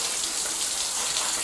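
Water runs from a hose in a workshop beside a wrecked V10 Lamborghini, a steady close hiss and spatter over the whole moment, with no talking.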